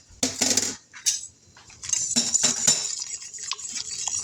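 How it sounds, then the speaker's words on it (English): Two beaten eggs are whisked into a pot of garlic soup, with close, bright metallic clinks and scrapes of the whisk against the pot in quick bursts and no talking. "I will whisk these to make it almost like an egg drop soup"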